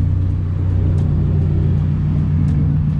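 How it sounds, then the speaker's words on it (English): A red 2004 Subaru WRX STI with a tuned engine pulls in close behind, its steady low engine rumble loud and continuous with no talk over it. "the red STI just pulled up right behind me"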